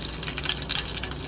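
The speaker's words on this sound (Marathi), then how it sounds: "फोडणी छान तडतडली आहे" Mustard seeds, cumin and curry leaves crackle in hot oil over a medium-low flame, a faint, steady sizzle dotted with small pops.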